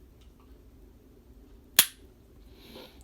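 A carry handgun fires a single sharp shot, loud and close, that decays quickly over quiet room background.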